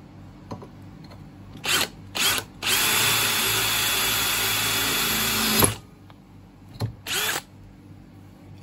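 A Bosch GSB 18V-90 C cordless drill bores into brick: a few short motor blips, then a sustained whine of about three seconds that cuts off abruptly, followed by two more brief bursts, all close and without talk.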